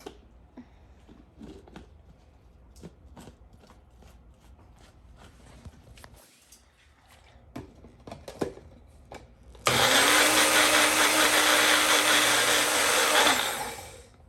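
A kitchen blender purees a paneer tikka masala sauce with added water, roaring loud and steady for several seconds after some quiet clattering and handling sounds, then spinning down.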